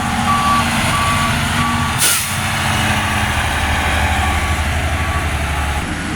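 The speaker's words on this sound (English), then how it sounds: "My dog likes the garbage trucks." A garbage truck's reversing alarm beeps in a steady repeating rhythm over the loud, continuous rumble of its idling engine, with a brief hiss like an air brake release partway through.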